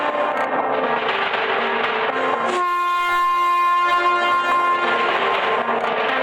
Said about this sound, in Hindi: ये लोग बातें कर ही रहे थे कि तभी अचानक ट्रेन रुक जाती है।